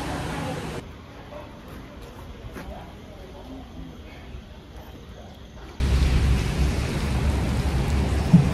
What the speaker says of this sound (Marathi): पाऊस आला आहे म्हणून थांबलो.